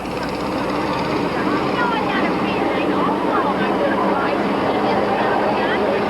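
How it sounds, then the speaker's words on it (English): A wrecker truck engine runs at Midvale Speedway in 1985 as a continuous droning roar, steady and fairly loud, with voices talking over it. "The only engine you hear right there is that Roy King's wrecker"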